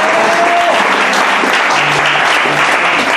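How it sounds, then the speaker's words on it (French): An audience at a Bible institute certification ceremony applauds an apostle, giving steady, dense, loud clapping throughout. "Est-ce qu'on peut acclamer?"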